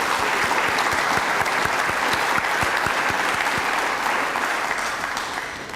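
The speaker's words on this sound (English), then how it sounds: "So if we could just give them a round of applause and acknowledgement." A lecture audience applauds in a sustained, even burst of many hands clapping, filling the room at steady loudness before easing slightly toward the end.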